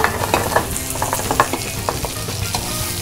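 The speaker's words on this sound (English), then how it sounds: "just basically cooking these prawns for about one and a half minutes each side" King prawns with the top shell left on sizzle on a hot BBQ grill, a loud close crackle and hiss with small pops and occasional scraping stirs, no voices.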